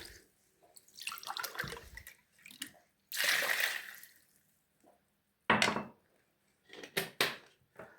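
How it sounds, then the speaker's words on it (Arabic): Water poured from cups onto caustic potash for soapmaking from used cooking oil, heard as several separate bursts of splashing and pouring, each a second or two long, close by and fairly loud with short quiet gaps between. "وهنحط كوبايتين ميه، يعني كل كوبايه بوتاص لها ايه، لها كوبايه ميه"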